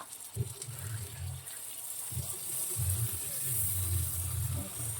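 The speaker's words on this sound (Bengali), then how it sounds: "এই বাটিটা ধুয়ে অল্প একটু জল দেবো" Water rinsed from a bowl and poured into a cooking pan while making paneer bharta, a soft gushing pour with low gurgles and a steady hiss, fairly quiet and close.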